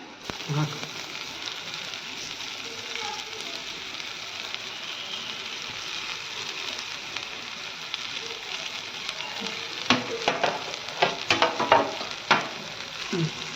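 Mashed potato frying in a little oil in a pan sizzles steadily, with scraping stir sounds growing busier toward the end. Someone speaks softly over the frying.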